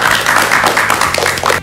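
Applause at a school student council candidate event: a steady, dense wash of clapping from a crowd, loud and continuous throughout.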